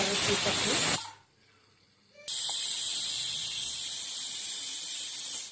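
Steam hisses loudly and steadily from a pressure cooker of goat leg curry, cuts out for about a second, then resumes as a strong continuous rush close by.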